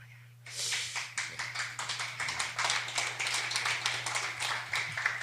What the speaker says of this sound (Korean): 여러분들 내게 대해서 박수를 치는 거 보니까